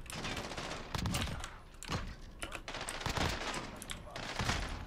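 CR-56 AMAX rifle fire in Modern Warfare, repeated rapid bursts of sharp close shots with brief gaps, loud and busy, with a voice talking at moments.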